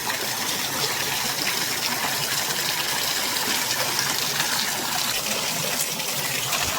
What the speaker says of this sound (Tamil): சிவனந்தபுரம் ஊரில் உள்ள சிவனந்தபுரம் வாட்டர் ஃபால்ஸுங்க